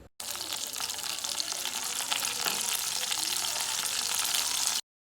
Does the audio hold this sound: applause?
no